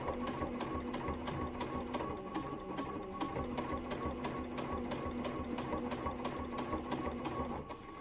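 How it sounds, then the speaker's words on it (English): A sewing machine stitches binding onto a round mug rug, running slowly and steadily with a continuous whir and evenly repeating stitch ticks throughout. "just so that you don't end up having the machine pull it in too fast"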